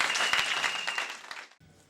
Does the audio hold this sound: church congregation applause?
yes